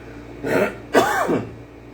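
A man clears his throat in two short, rough bursts, close to the microphone against quiet background.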